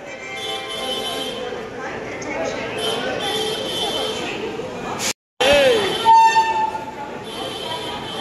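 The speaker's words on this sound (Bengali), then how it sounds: "চলে এসছে আমাদের কৃষ্ণনগর লোকাল" A Krishnanagar local train bound for Mayapur and Nabadwip pulls into a crowded station with a loud steady rumble and rattle, a short horn toot and a squeal, while people talk nearby.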